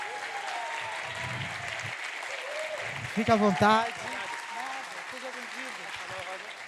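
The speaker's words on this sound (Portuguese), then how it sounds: "Palmas, vamos receber o Ondiak," Audience applause welcoming a speaker at a literary event: steady clapping throughout, with someone speaking briefly over it partway through.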